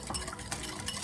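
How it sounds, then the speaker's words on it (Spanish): Sugar and egg being whisked together in a bowl for blueberry cupcakes, giving a steady run of quick clinking, scraping strokes, close and moderately loud, with no voices. "poner el azúcar y el huevo. Y esto prácticamente lo vamos a batir"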